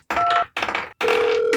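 A telephone rings in three loud, closely spaced bursts with short gaps between them, heard during a Delta Green tabletop role-playing game session.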